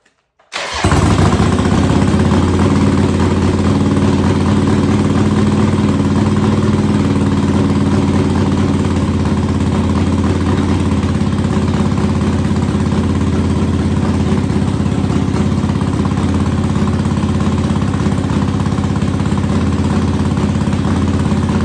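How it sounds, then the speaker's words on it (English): Harley-Davidson Iron Head Sportster engine fires up and settles into a steady, loud, close idle with a throbbing low rumble that holds unbroken for the rest of the run. "We'll run the idle up a little bit more."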